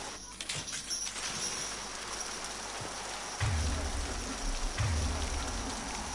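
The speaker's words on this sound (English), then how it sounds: "The rain in this game really needs to be sorted out." Rain falls continuously in Mass Effect 2 Legendary Edition, a steady hissing patter with low rumbling thuds joining partway through and no voices.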